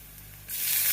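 Water poured into a hot pan while cooking vermicelli, starting as a quiet background hum and breaking into a sudden bright hissing splash halfway through that grows and holds.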